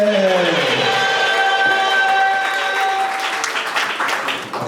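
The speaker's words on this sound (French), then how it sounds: "On applaudit pour la mariée." Guests at a wedding in Gabon clap for the bride, a lively burst of applause with some cheering that gradually thins out, over the fading tones of music.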